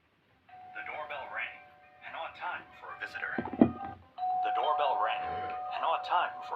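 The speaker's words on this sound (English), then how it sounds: "The doorbell rang" A doorbell in a Minecraft SCP Foundation game chimes with a steady ringing tone, sounding twice, while people talk over it in a room.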